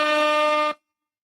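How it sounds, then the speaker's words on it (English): One long, loud, blaring air horn blast from a sound-effects board, a bright harmonic honk held for under a second before cutting off sharply into silence. "this is air horn."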